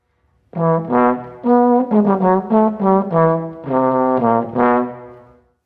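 A bass trombone plays a smooth phrase of sustained notes from an Allegro agitato, rich and resonant, with even attacks and no sharp emphasis.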